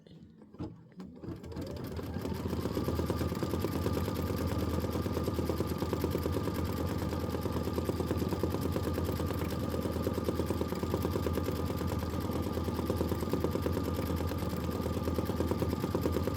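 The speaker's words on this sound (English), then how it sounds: "This is 2 minutes of stitching." An embroidery machine stitches a Boo Manor tiling-scene tile onto Aveneer wood veneer, a steady, rapid mechanical chatter that starts up and then runs evenly and continuously with no talking.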